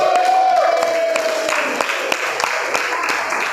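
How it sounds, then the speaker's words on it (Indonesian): A classroom of students breaks into applause, dense clapping mixed with a few cheers and whoops that fades slightly toward the end. "Tepuk tangan dulu dong."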